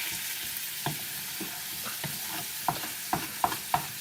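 Honey-glazed carrots are stirred in a pan on a hob, a soft steady sizzle broken by a series of utensil scrapes and light clinks that grow sharper and more regular toward the end, close but fairly quiet.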